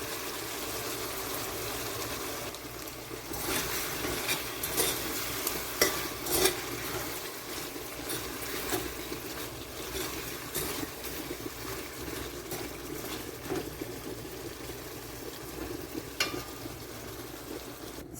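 Steady bubbling and sizzling of chicken backs cooking in water in a covered pot, continuous and fairly close, with occasional stirring clinks and no talking.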